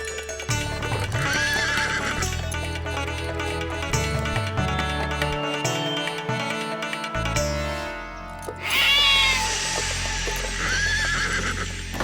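A horse pulling a carriage neighs and whinnies loudly as the carriage halts suddenly, with clip-clop hooves and a dramatic musical score underneath, ending in a second shrill whinny.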